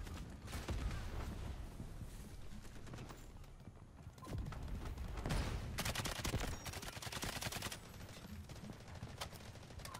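SMG-45 submachine gun fire in the shooter game Delta Force rattles in dense, rapid bursts, loud and close, with short pauses between volleys.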